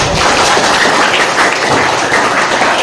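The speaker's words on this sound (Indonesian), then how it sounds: "Beri tepuk tangan dulu." A classroom of students applauds together, a dense, loud and steady wash of clapping that fills the whole stretch without a break.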